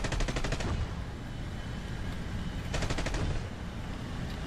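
Bursts of rapid aircraft cannon fire sound in a flight combat game involving a MiG-17 and MiG-9s, two short rattling volleys about two seconds apart over a steady engine-like rumble.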